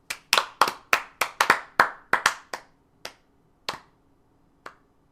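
About a dozen sharp, close hand claps from a single person or a very small group, quick and uneven at first, then slowing to a few isolated claps before stopping, with no talking.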